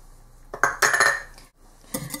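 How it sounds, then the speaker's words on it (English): Eggs, plain Greek yogurt and oil are whisked in a bowl, a utensil scraping and clinking against the sides in two busy bursts with a brief pause between them. "then you whisk this together"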